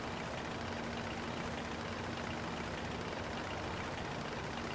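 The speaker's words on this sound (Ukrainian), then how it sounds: "Ну, не їде трактор зовсім." Tractor engine in Farming Simulator 22 runs at a steady, loud idle-like drone with a constant low hum throughout, no talk over it.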